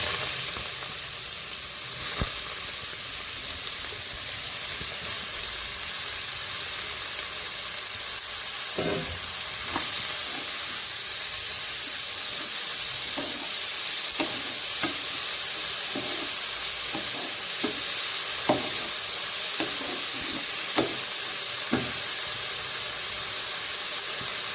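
Chopped cauliflower fries in a hot pan, giving a steady loud sizzle and hiss with scattered scraping clicks from stirring, continuous and close with no talking.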